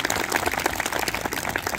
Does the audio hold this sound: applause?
yes